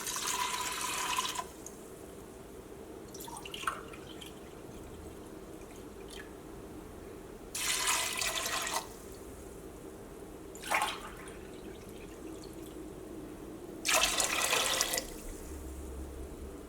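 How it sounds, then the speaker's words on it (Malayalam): Water is poured into a glass tumbler in three separate bursts, each splashing for a second or so, with brief clinks and quiet pauses between. "ഞാനിവിടെ ഇതേപോലെ ചില്ലിൻ്റെ ഗ്ലാസ്സിലാണ് വെള്ളം ചേർക്കുന്നത്."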